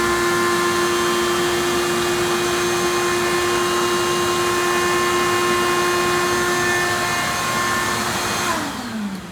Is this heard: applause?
no